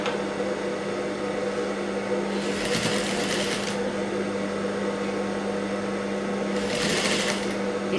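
A tailor's sewing machine stitching a blouse runs with a steady close motor hum, broken twice by short bursts of brighter rapid stitching clatter.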